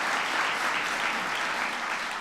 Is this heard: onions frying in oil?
no